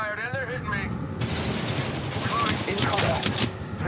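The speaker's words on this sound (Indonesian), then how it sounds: "Shots fired and they're hitting me." Gunfire in PUBG, rapid overlapping shots and bursts at close range. A voice speaks over the start before the shooting takes over and continues loudly.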